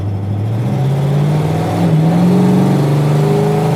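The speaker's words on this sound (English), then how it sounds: "It's got that GTO power, D." A 1966 Pontiac GTO with a four-speed automatic revs and pulls while driving, its engine note rising steadily and growing louder across the run, heard close and alone with no talk.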